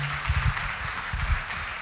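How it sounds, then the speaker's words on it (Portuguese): A congregation in a church clapping, quieter and patchy, with a few bursts of hand claps in short clusters against a hushed room. "Você pode aplaudir o Senhor"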